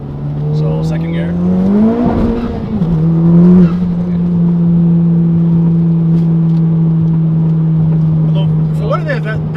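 Inside a Honda Civic Type R FK8 on cold 808 endurance track tires, the engine hums steadily, swells as it revs hard in second gear, then settles into a sustained drone.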